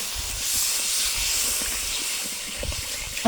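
Masala of dried chilli, chilli powder, salt and cinnamon sizzling in a pan after water is poured onto the hot spices, a loud, broad hiss that stays steady throughout.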